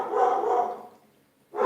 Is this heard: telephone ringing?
no